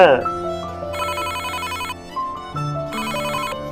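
An incoming-call ringtone on a mobile phone plays a looping synthetic melody of bright repeating tones, loud and close, with busy musical bursts recurring about every two seconds across the short stretch and no speech over it.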